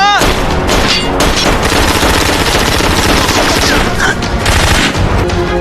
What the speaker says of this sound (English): The shootout between Dragon and Frank didn't last long because Frank shot Dragon dead instantly.